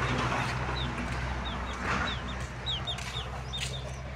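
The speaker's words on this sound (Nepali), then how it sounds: "कुखुराहरू छ चल्लाहरू छ" Chickens cluck softly while chicks peep in short, rising chirps scattered throughout, over a low steady background hum, in a village.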